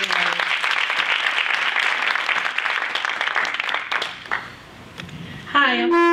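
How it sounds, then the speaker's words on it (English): An audience at a fashion show event claps in sustained applause that fades off midway, followed by scattered noise and a voice beginning to speak. "Please give yourselves a round of applause for coming out and supporting me."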